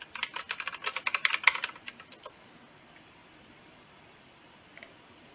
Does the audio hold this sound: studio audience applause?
no